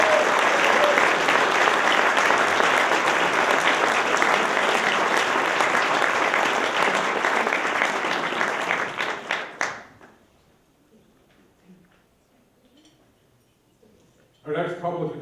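An audience at an awards ceremony applauds loudly and continuously for about ten seconds, then the clapping dies away to near silence before a brief burst of sound returns at the end.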